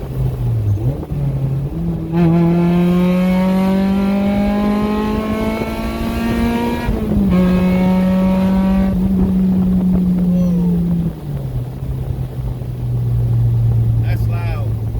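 A Toyota MR2 Spyder with a 3 inch exhaust revs up from idle, the engine tone climbing in long loud sweeps, holding high, then dropping back to a steady loud idle rumble.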